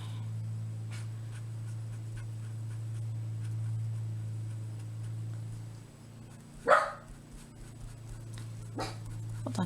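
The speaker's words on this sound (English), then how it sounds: "my dog, please don't bark" A pet dog gives a short, sharp burst of barking indoors, a single loud yap followed by a fainter second one, against a steady low electrical hum and quiet room noise.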